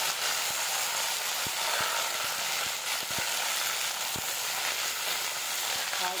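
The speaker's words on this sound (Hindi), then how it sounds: "तो यहाँ पे हमारा मेथी पक चुका है, तो यहीं पे हम बैंगन और आलू को भी ऐड कर देंगे।" Eggplant and potato frying in a pan with cooked fenugreek leaves, giving a steady loud sizzle. A few faint clicks of stirring sit on top of it, and no one talks.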